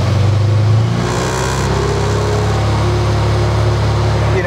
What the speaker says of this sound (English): when I give throttle, is actually my fuel mixture is getting really lean